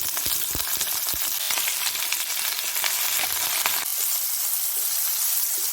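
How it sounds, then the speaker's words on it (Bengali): Pointed gourd pieces fry in hot oil with a loud, dense sizzle and crackle, punctuated early by sharp spatters and stirring clicks, then settling into a smoother steady fry, close up with no talk. "ওই তেলেই পটলগুলো দিচ্ছি।"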